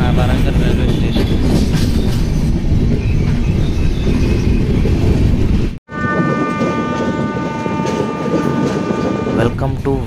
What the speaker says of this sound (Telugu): ఇప్పుడు ట్రైన్ అయితే కర్వ్ అవుతుంది, అలా మెల్లికి వెళ్ళిపోతుంది అనమాట